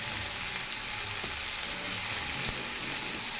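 Bitter gourd, potato, pointed gourd and teasel gourd frying in a pan, a steady dense sizzle with faint stirring clicks throughout, no voices.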